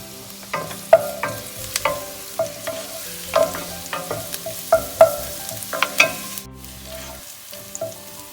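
Chopped garlic and green chillies fry in hot oil for a mixed fried rice, a steady crackling sizzle broken by frequent clicks and scrapes of a spatula against the pan, close and without voices.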